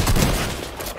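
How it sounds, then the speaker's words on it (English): Video game gunfire crackles as a loud, close burst of rapid shots, packed into about a second with no talking over it. "who's shooting at me?"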